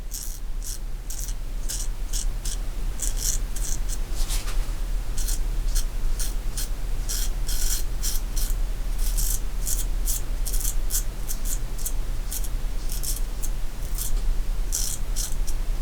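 An adjustable QShave safety razor scrapes across the stubble of the chin in rapid, repeated close-up strokes, a crisp rhythmic rasping that runs continuously with no talk.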